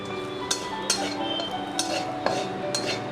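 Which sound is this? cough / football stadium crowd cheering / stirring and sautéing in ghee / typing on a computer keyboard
stirring and sautéing in ghee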